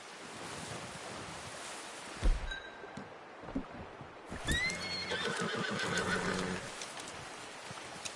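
A horse in the Western game Red Dead Redemption 2 whinnies in a long shaky call over a hushed outdoor bed of wind and rushing noise, with a few soft hoof thuds and no talking.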